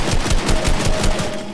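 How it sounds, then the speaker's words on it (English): Rapid automatic assault-rifle fire in a video game, a dense, loud burst of evenly spaced shots rattling without pause from start to finish. "take out your assault rifle and shoot the person"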